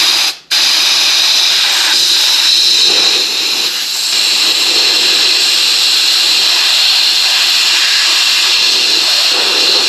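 Compressed air at about 40 psi blasting through the pilot tube of a Buddy portable heater, a loud continuous close hiss with a brief dropout near the start, then steady to the end.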